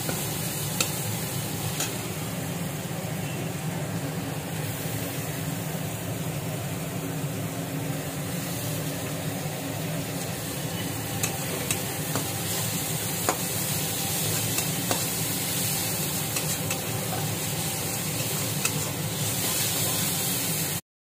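Shrimp fry in a pan with chopped onion, ginger and green chilli, giving a steady, close sizzle that runs unbroken throughout with faint stirring ticks and no talk.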